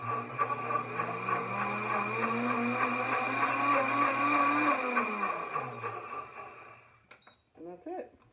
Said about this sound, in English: I'm going to run the blender just for a few seconds just to clean out the inside